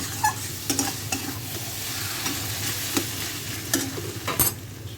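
Taro leaves (kochu shak) cooking with oil in a pan are stirred in quick scraping strokes, with a steady close sizzle and sharp utensil clicks against the pan, no voices.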